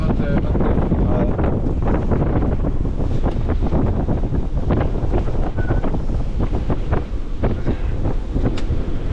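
Strong wind roars continuously over a sailboat in gusts around 26 to 29 knots, a loud buffeting rush with water noise beneath, steady throughout with no talk.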